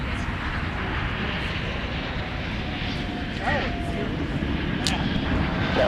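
Airliner engines at MSP airport, with an Airbus A330 departing and a CRJ arriving, make a steady broadband roar that holds at moderate level throughout, while faint voices come and go in the background.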